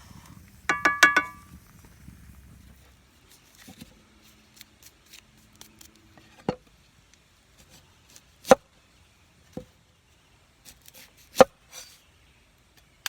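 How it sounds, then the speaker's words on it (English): Knife chops through a home-grown garden onion on a board, a burst of quick cuts at the start followed by single sharp, spaced knocks, close and clear with no talking. "So let's chop an onion that I picked out of my garden."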